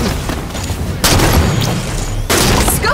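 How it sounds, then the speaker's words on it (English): Dense bursts of rapid video game gunfire crackle continuously, growing louder in two sharp surges, with no voices. "Contact, hostile fire."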